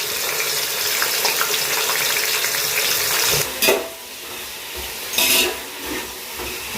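Onions and green chillies frying for biryani give a steady, close sizzle with occasional stirring scrapes and two brief louder bursts of hiss partway through.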